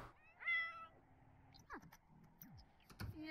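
A cat in The Sims 4 video game meows a few times with short, bright, rising calls, fairly close amid faint game sounds and small clicks, with no speech.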